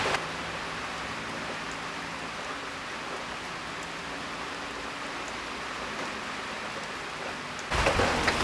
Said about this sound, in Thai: ตอนนี้บริเวณด้านนอกศาลานะครับฝนตกหนักเลยครับ